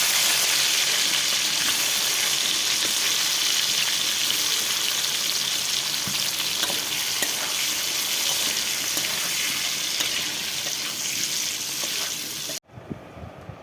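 Brinjal (eggplant) frying in hot oil for a Bengali prawn-with-brinjal dish, a steady loud hiss and crackle running continuously for about twelve seconds before stopping abruptly.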